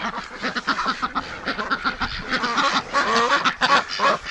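Female breeding ducks quack loudly in spring, a dense run of overlapping honking calls close by with no gaps, several birds calling at once.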